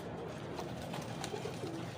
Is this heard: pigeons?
yes